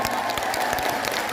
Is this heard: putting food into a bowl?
no